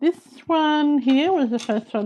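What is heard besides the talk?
No everyday noise stands out behind the speech.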